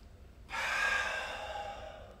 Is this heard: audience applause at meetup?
no